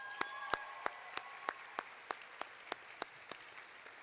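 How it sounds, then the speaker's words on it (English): Evenly spaced, sharp claps, about a dozen in four seconds, ring out at a steady beat over a faint tonal hum at a school awards celebration, sounding like a small audience clapping in unison. "Let's give them another round of applause."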